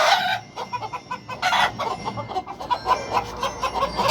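A white fighting rooster clucks in short, irregular bursts close by, with sharp clipped calls and brief pauses between them.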